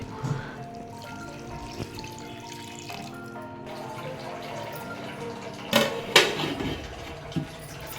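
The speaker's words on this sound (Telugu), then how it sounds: "మనం రెడీ చేసి పెట్టుకున్న చింతపండు పులుసుని యాడ్ చేసేసుకుందాము" Tamarind juice being poured into a pot of crab curry, a steady close trickle and drip under a constant background hum with a few sharper splashes toward the end.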